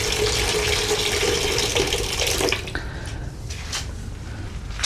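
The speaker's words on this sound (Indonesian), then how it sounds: "Nih airnya, nih menyala, jalan airnya." Water pours steadily from a tap at a mosque ablution area, a loud close splashing rush that eases partway through into a softer trickle with faint drips, no voices.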